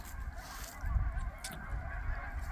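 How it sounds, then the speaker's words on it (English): A flock of geese honks continuously in the distance in fall, overlapping calls forming a busy, noisy chorus with low rumbling wind underneath. "the geese and the ducks are going crazy."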